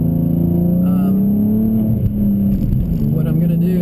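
A 750 rwhp BMW M3 on HPF Stage 2.75 turbo setup with old tires is driven slowly, its engine giving a steady, loud low drone that shifts pitch slightly, while someone talks over it throughout.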